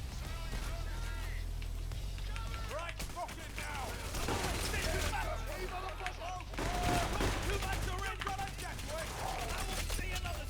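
Rapid bursts of gunfire in the heist shooter PAYDAY: The Heist, dense continuous volleys that swell and fade over steady background noise and game music, with a player talking throughout.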